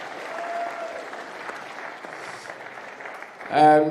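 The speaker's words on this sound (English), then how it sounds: "round of applause to Joeri and Stan, please, for that match" Applause from spectators at a squash league match in a Rotterdam stadium, a steady moderate patter under a voice talking, ending with a brief louder burst.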